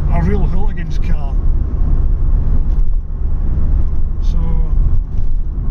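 Vauxhall Astra GTE 16v engine revved hard, a loud, steady mechanical roar with shifting pitch lasting throughout, with a person talking over it near the start.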